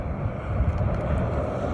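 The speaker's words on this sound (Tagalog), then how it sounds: "Masyado yung malakas yung hangin." Strong wind roars and buffets the microphone in a steady, heavy low rumble with no pauses, while fishing at Tag-ulo, Dapitan City, Philippines.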